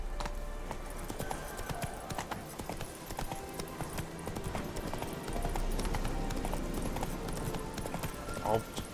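Rapid clip-clop of horse hooves galloping steadily throughout in The Witcher 3: Wild Hunt, with a busy layered game soundscape and a brief whinny-like cry near the end.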